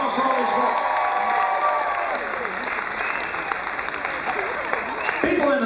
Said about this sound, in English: Big round of applause for all these folks.